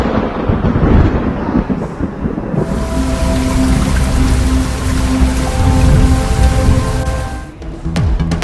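Heavy rain pours loudly and steadily as a thunder effect under a Karachi weather report rumbles through, with a sustained roar and a few sharp crackles near the end.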